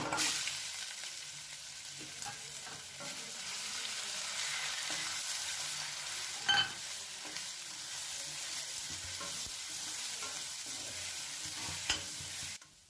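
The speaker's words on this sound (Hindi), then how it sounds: "अब इसी में हम इस पिसी हुई मटर को भून लेंगे।" Ground green peas fry in leftover oil for Uttar Pradesh-style matar ka nimona, with a soft, continuous sizzle and occasional scraping knocks from stirring, heard alone without talk.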